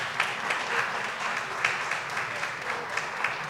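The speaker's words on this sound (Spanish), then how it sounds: "Un aplauso," An audience at a cultural festival event in Santiago applauds steadily, a dense, even patter of many hands clapping throughout, with no voices over it.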